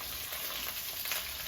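Green chillies blistering in hot oil in a pan for a chilli gravy, a steady close sizzle and crackle with soft stirring, no voices.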